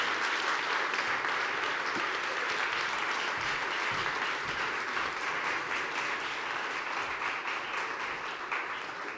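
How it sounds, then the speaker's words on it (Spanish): Steady, dense applause fills a conference hall for the fuel industry panel, continuous and even for the whole stretch with no voices above it. "Un aplauso para ellos, claro que sí"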